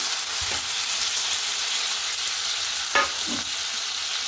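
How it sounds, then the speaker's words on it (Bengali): Boneless lote fish frying in a pan, a steady, loud hiss of sizzling oil throughout, broken by a couple of brief stirring scrapes. "ভালো করে এটা একটু ভাজা ভাজা করে দিচ্ছি"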